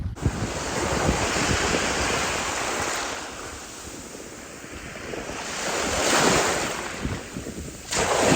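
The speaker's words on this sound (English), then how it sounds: "Almost to the beautiful beach" Waves rolling onto a beach on Mykonos, with steady wind buffeting the microphone and the surf swelling and fading in several loud surges.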